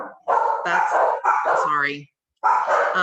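Dogs barking at home in short, loud, yappy bursts, with a brief pause before the barking resumes; voices may be present.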